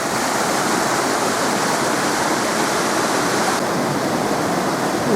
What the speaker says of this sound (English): And we'll cross over this little river.